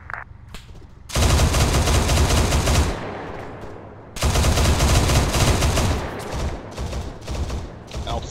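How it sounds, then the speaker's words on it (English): Heavy automatic gunfire in the video game Squad during a convoy, two loud sustained bursts of rapid shots separated by a brief lull, with faint scattered pops before the first burst. "Gunfire right."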